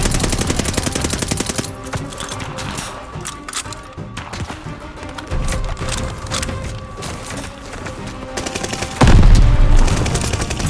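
Intense gunfire fills a Call of Duty: Vanguard battle, with rapid machine-gun bursts and overlapping rifle shots rattling continuously, ending in a heavier, booming volley.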